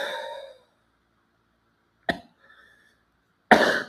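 A voice imitates coughing: a short burst, a small hack after a pause, then a louder harsh cough to finish, each separated by silence.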